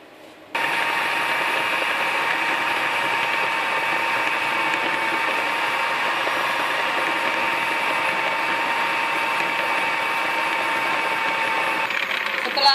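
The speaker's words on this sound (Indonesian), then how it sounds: "Dan kemudian kita campur bersama dengan mixer." A handheld electric mixer whirs steadily as it beats butter and water into pastry dough, a loud continuous mechanical drone that starts abruptly and runs without pause.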